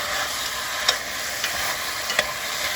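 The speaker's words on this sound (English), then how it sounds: "So, what I'm gonna do now is I'm gonna stir this around just a little bit." Oxtails brown and sizzle in a pot for braised Caribbean oxtails, a steady loud frying hiss with a few soft stirring scrapes, close and continuous with no voices.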